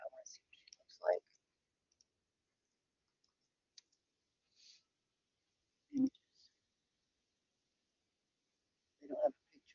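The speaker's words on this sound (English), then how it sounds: "let's type in Anthony Alonis' wife" Sparse clicks and taps on a computer keyboard, a few brief isolated bursts separated by quiet gaps, close and fairly soft.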